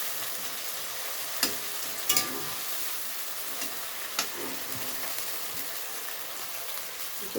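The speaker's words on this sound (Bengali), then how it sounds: "এবার আমি জলটা দিয়ে দিচ্ছি।" Water goes into a sizzling pan of paneer curry, raising a steady broadband hiss and bubbling with a few sharp clicks and taps from the pan. It sounds moderately quiet and close, with no talking.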